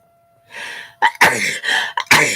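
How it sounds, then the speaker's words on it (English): Several close, sharp sneezes and sneeze-like bursts follow one another in quick succession with breathy gasps between them, loud and unaccompanied by talking. "I'm going to sneeze."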